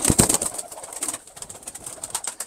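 Pigeons coo and flutter close by indoors in a loft, with soft rustling and scattered calls, no talking.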